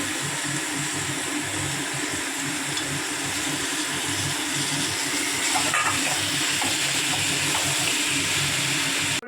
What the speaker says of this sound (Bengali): জল দিচ্ছি, বেশি দেওয়ার দরকার নেই কারণ আগে থেকেই যেহেতু চাল কুমড়োটা সেদ্ধ করা আছে।